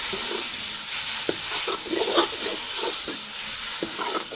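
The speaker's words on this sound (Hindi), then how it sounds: "ये पत्ते हैं मूली के और मैंने कहा ये पहले इसको भूनी लगा लूँ थोड़ी देर" Radish leaves fry in a pan with a continuous close sizzle and hiss, while irregular stirring scrapes and taps sound throughout. No one speaks.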